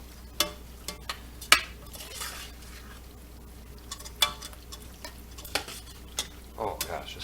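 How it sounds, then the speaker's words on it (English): A spoon stirs chili in a pot with olive oil, onions and garlic, giving scattered scraping clinks against the pot over a faint sizzle, close and fairly quiet. "Stir it up real good."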